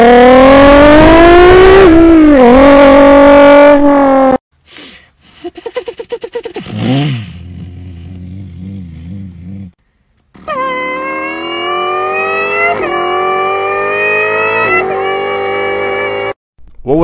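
Human voice imitating a Nissan R35 GTR turning into a 350Z mid-drive: loud mouth-made engine revving with rising and falling pitch, sputtering shift-like breaks, then a second strained, whining rev.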